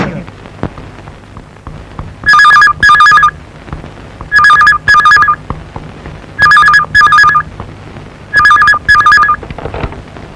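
A telephone ringtone sounds in four evenly spaced pairs of short, bright warbling rings, clear and prominent above a low, steady background hum.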